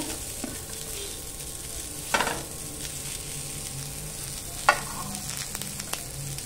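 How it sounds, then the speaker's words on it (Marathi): Onion and garlic roasting in a little oil in a pan over low heat, with a soft steady sizzle and two sharp scraping stirs close by, no voices. "आता आपण कांदा आणि लसूण सुद्धा छान असं भाजून घेऊया."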